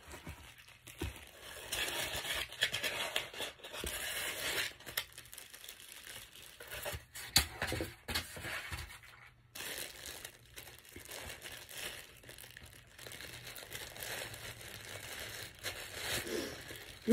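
Plastic crinkles and rustles up close in irregular bursts, with crackling handling sounds and brief quiet gaps between them.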